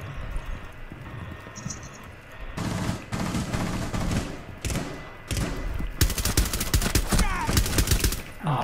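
Video game gunfire crackles in rapid bursts and volleys, loud and close, with thuds between shots and quieter stretches early on.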